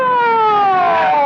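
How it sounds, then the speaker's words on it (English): An ambulance siren from an old-time radio mystery drama sounds loud and close in a single steady, slowly falling wail, with no voices over it. "What's the ambulance for?"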